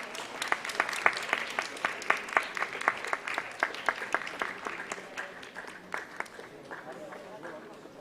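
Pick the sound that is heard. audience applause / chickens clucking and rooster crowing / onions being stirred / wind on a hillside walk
audience applause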